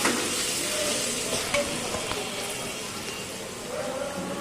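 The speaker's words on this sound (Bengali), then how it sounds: "ভালোভাবে পেঁয়াজটা ভেজে নিচ্ছি।" Chopped onions frying in oil for an egg and potato curry, a soft continuous sizzle with a few faint stirring scrapes, fairly quiet throughout.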